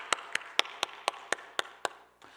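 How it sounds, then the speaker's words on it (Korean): A church congregation at a Friday prayer meeting claps together in an even rhythm, about nine sharp, evenly spaced claps heard faintly in a quiet room. "우리 하나님께 영광의 박수 올려드리겠습니다."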